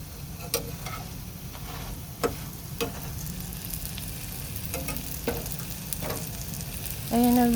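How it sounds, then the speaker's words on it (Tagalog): Lumpiang Shanghai spring rolls frying in oil in a pan at breakfast, a continuous close sizzle with scattered sharp pops and clicks, ending in a louder burst. "nagluto ako ng lumpiang Shanghai, guys"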